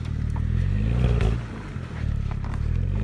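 A BMW's tires spin in snow, giving a continuous low droning whir with a muffled scraping texture, dipping briefly midway before the spinning picks back up.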